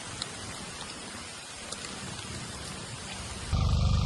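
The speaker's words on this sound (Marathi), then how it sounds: "तुफान पाऊस झाला आज" Heavy monsoon rain falls on flooded paddy fields, a dense, steady hiss of drops with scattered patters, then a sudden louder rush near the end.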